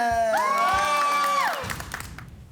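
A studio audience at a French-language reality TV show lets out a loud rising whoop and cheer that swells and then fades into scattered claps and murmurs.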